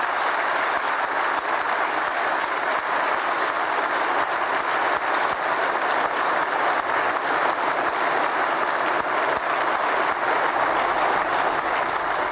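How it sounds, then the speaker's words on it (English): Rapturous, sustained applause from business leaders in Berlin for the Greek Prime Minister, a dense, even roar of clapping that holds at full strength throughout without a break. "rapturous applause there for George Papandreou, Greek Prime Minister, addressing business leaders in Berlin"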